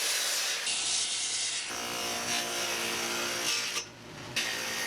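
A power saw cuts a wooden bed slat to length, a harsh broadband whine running for several seconds, with a brief drop near the end as the blade finishes.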